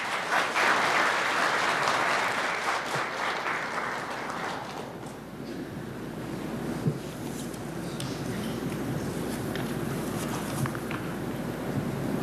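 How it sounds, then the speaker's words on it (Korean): At an outdoor Korean Labor Day ceremony, a crowd greets the head of the employers' federation with loud, dense applause that fades after about four seconds into breezy ambient noise. "여러분 뜨거운 박수 부탁드립니다"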